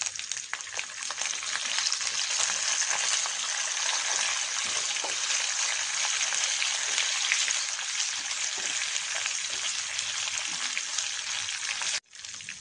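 Urad dal, chana dal, sesame seeds and dried red chillies sizzle in hot oil, a loud, close, steady hiss of frying that holds evenly throughout before dropping off briefly near the end.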